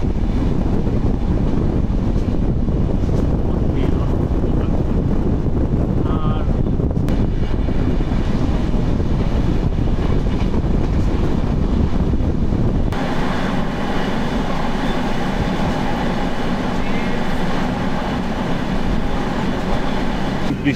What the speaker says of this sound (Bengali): আমাদের ট্রেন বাম দিকে বাঁক দিয়ে চলে যাচ্ছে